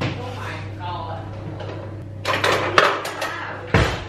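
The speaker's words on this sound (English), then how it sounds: "Chopping up my chili pepper." A knife chops a chili pepper on a kitchen board, giving a few sharp knocks and clatters near the end. They follow a stretch of low hum and muffled sounds, with someone talking.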